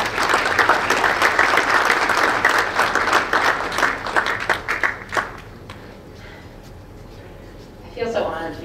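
A town hall crowd in Topeka gives a sustained round of applause, a thick wash of many hands clapping that thins and fades out, leaving a quiet room before a voice begins to speak.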